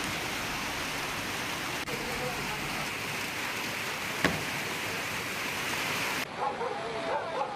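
Heavy rain pours down during flooding in Tapanuli Tengah: a dense, steady roar of rainfall fills the whole stretch at close range, then drops to a thinner, patchier hiss near the end.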